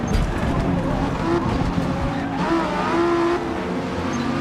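A race car in Forza Motorsport brakes hard and skids, with loud, steady engine roar and tire squeal sweeping through the middle and tailing off near the end.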